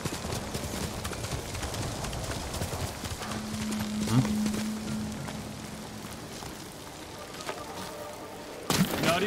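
Horse hooves clip-clop steadily through Ghost of Tsushima's Iki Island expansion on PS5, with rain falling around them and a brief whinny partway through; game ambience continues underneath.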